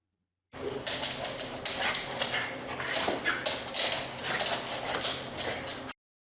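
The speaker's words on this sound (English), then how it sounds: "This is Flash, a Mexican hairless. And this is what he does when guests come to his owner's house" A Mexican hairless dog whimpers and yips continuously as guests arrive at a house, a close, high, restless string of whines and short yelps.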